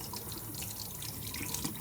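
Faucet water runs in a steady, soft hiss as hands are rinsed at a sink, continuous and fairly quiet with no voices.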